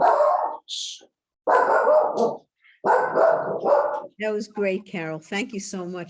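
Dogs at home bark in a few loud, noisy bursts during an online writing session, then a person speaks briefly over the end.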